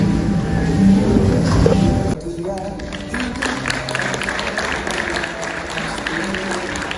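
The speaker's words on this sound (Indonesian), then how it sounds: "beri tepukan yang gemuruh kepada pelajar-pelajar dari kelas sastra semester 1" An audience applauds after a school drama performance by literature students, dense clapping that starts loud and close, then settles into a steadier, slightly softer patter.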